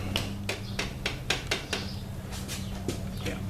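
A hammer drives a screwdriver to knock a metal piece out of a handlebar mount on a 2015 Harley Street Glide, giving a quick series of sharp, close metallic taps in a steady rhythm over a low background hum.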